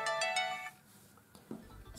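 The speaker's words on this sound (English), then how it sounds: "Cancel the bell ring." A phone rings with a bright melodic ringtone, set off by the find-phone function of a ZGPAX S28 smartwatch. It sounds clearly for about half a second, then is cut off, followed by faint handling noises.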